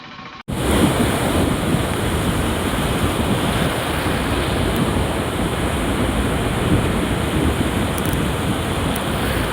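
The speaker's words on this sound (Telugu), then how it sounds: "ముత్తుకూరు మండలం కృష్ణపట్నం సముద్ర తీరంలో అలలు ఎగసిపడుతున్నాయి" Sea waves surging onto the Krishnapatnam shore in Muthukur mandal during a Bay of Bengal low-pressure system, a loud continuous roar of surf with wind buffeting the microphone, starting abruptly after a brief quiet moment.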